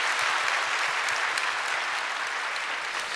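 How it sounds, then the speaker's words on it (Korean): Congregation applauding in a church to bless two newly baptized children, a steady dense wash of clapping from a large crowd, loud and continuous throughout with no speech. "우리 두 아이 하진이, 하원이를 위해서 우리 인사할 때 박수로 축복해 주시기 바랍니다"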